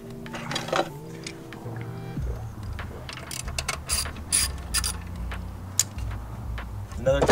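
Pliers and tools working on the crank breather under the engine bay of a 10th-gen Civic Si, with loud ratcheting clicks and metallic clanks that come in irregular bursts close to the microphone, and a voice talking in parts of it.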